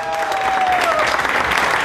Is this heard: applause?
yes